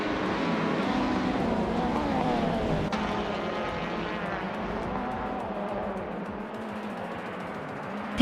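A continuous roar of several video game race car engines droning together, shifting pitch as they accelerate, steady and loud throughout.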